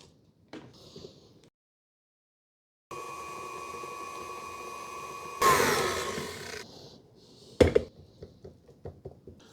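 An electric mixer beats peanut butter and cream cheese. Its motor whines steadily for a few seconds, swells into a louder, rougher burst, then cuts off, followed by light kitchen clatter.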